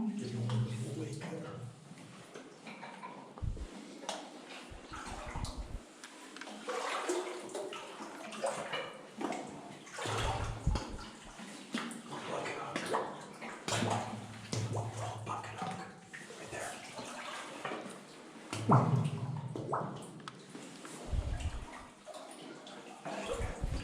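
Legs slosh and splash steadily through knee-deep water inside an underground autunite and beryl mine, a continuous wet churning close by, with someone talking over it.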